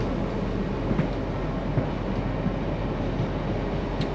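Steady rumble of a moving train carriage on the way to Lanisham, broadband rolling noise with faint periodic clicks of wheels over rail joints, continuous and close.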